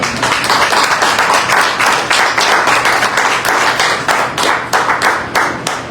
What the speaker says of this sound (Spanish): ¿Cuánto le pueden dar un aplauso al Señor Jesús?